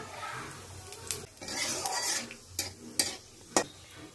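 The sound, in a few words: whole spices, chillies and cumin sizzling in hot oil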